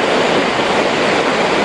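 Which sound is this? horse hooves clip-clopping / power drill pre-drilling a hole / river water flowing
river water flowing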